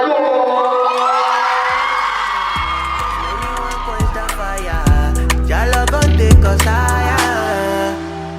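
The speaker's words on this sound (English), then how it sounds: "Please give her a round of applause" A crowd at a senior fashion collection show cheers and whoops over loud music with a heavy bass beat, the cheering strongest at the start and then fading under the music.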